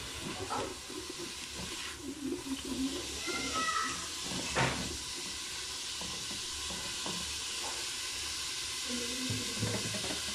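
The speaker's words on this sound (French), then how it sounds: "Je mets mes oignons. Il y a eu un peu de graisse aussi de la viande dedans. Voilà, je les fais revenir." Onions cook in a pan with some beef fat, giving a continuous crackling sizzle and steam hiss up close, with intermittent stirring scrapes.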